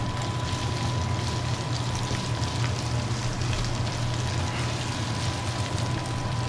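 Meat for sopes sizzles steadily in a hot pan, a loud, even hiss of frying that continues without a break.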